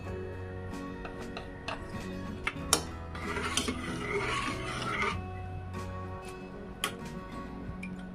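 A spoon stirs onion curry with finely ground peanut powder in a pan, a run of dry rasping scrapes and light metallic ticks against the pan, close and fairly quiet, with no talking.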